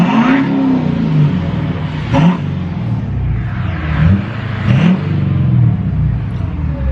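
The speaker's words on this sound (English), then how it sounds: "I'm gonna give you all a little rev real quick while we're at this light." A diesel truck engine, running on gasoline poured in by mistake, idles with a deep rumble at a traffic light, then revs up in several short, loud bursts before settling back.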